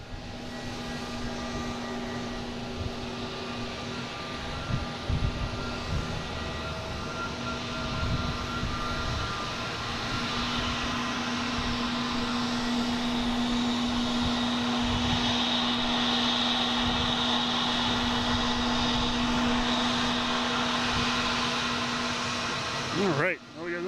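British Airways airliner at Boston Logan airport, its jet engines giving a loud, steady roar with a whining tone that holds for the whole stretch and builds slightly toward the end.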